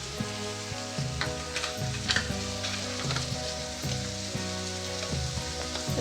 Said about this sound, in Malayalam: ഇതെല്ലാം കൂട്ടിട്ട് നമുക്കൊന്ന് നല്ലോണം ഒന്ന് വഴറ്റിയെടുക്കാം.